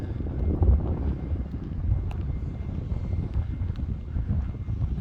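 Wind blowing outdoors beside an old railroad roundhouse in Evanston, Wyoming, buffeting the microphone as a low, gusty rumble with uneven swells, fairly faint and steady with no voices heard.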